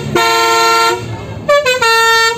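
Loud, close bus horns from a convoy of dozens of buses on the road in Jogja: one long multi-tone blast, a brief pause, then a short toot and another sustained blast, with no talk over them.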